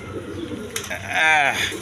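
A male pigeon gives a short, throaty coo, close and fairly soft, ending in a brief rising-falling burble amid a quiet background.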